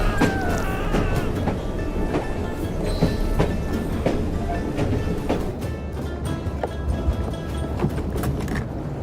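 A steam-era train in Assassin's Creed Syndicate rumbles steadily with rhythmic clickety-clack of wheels on rails and scattered metallic clanks, loud and continuous throughout.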